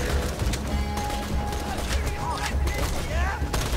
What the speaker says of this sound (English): Oh, who's shooting at me?